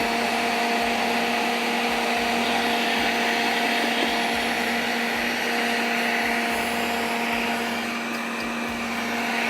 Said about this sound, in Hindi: बहुत अच्छी तरह से स्मूथ पीसना।